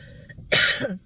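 A single harsh, close cough, preceded by a faint breath.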